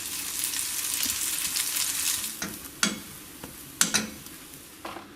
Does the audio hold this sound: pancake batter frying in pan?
yes